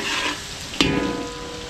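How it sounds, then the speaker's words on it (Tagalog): Garlic sizzles in a hot pan as pancit is cooked, a steady close frying hiss with one brief sharp stir or clatter partway through. "Maglalagay tayo ng bawang."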